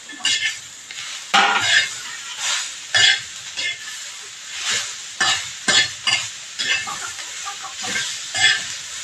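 Roasted peanuts and chillies being stirred in a pan for chilli kharda, a rhythmic series of loud scraping and rattling strokes over a light sizzle, close up, with a rooster faintly audible in the background.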